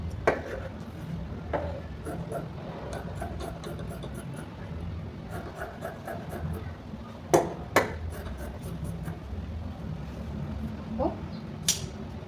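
Scissors cut through blouse fabric in a quiet room, giving scattered crisp snips and clicks at uneven intervals, a few sharper and louder than the rest, over a low background hum.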